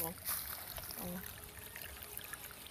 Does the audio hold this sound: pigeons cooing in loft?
no